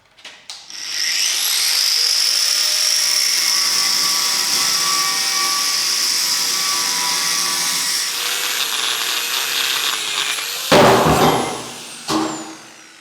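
A power tool cutting thick, very hard steel on a concrete mixer under repair, a loud sustained high-pitched grinding whine lasting most of the clip, then breaking into rough bursts of scraping noise near the end.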